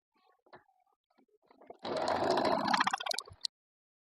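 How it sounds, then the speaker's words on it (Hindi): A domestic sewing machine stitching a folded fabric strip for a home-made organizer runs in a dense, steady mechanical whir for about a second and a half, close and loud, after a few quiet handling clicks. "दोबारा से इसके ऊपर इस तरह रख के सिलाई लगाएंगे।"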